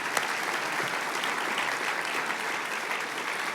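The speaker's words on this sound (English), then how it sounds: "Please give them a round of applause." An audience at a donor appreciation luncheon claps steadily, a dense even round of applause from a roomful of people that holds its level throughout.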